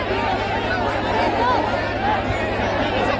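Dense chatter of a large crowd at an Azad Samaj Party political rally in Hardoi, a steady, close hubbub of many voices overlapping continuously with no pauses.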